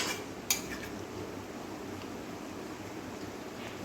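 Fish masala curry stirred gently in a metal pot, a single faint scrape near the start followed by a soft, steady simmering hiss with no talking.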